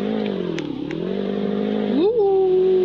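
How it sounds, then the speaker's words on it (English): A John Deere tractor in the Roblox Brookhaven game runs with a steady droning engine hum while doing donuts, then rises sharply into a rev near the end. "Doing some donuts with my John Deere tractor"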